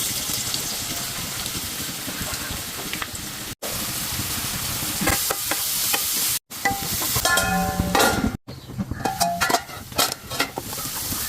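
Cooking oil poured into a heated pan on a lit stove, giving a steady close sizzle with stirring and scraping clatter, broken by a few brief cuts and sharper clinks near the end.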